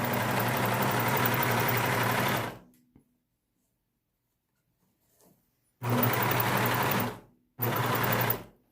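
A sewing machine stitching a fabric face mask and back-stitching the elastic, a loud close steady whirring run, a pause of near silence, then two short bursts of stitching, no talk.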